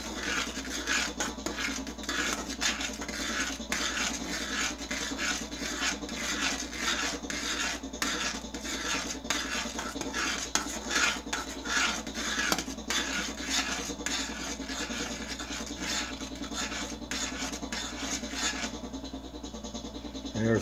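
Fudge stirred in a pot over high heat, a steady scraping rasp of a spoon against the bottom repeating in quick, even strokes, moderately close and continuous for the whole stretch.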